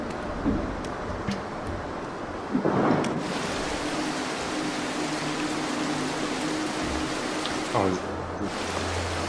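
Steady rain with rumbling thunder in the stealth video game Mark of the Ninja, a loud crack near the start and another late, constant hiss of rain throughout, in-game sound without talk.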